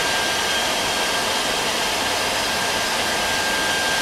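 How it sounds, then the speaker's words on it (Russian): Portable PCP air compressor filling a 1-liter cylinder, with a loud, steady, unbroken mechanical whir and hiss like a blower, cooling fans running, no voices. "Это портативный компрессор."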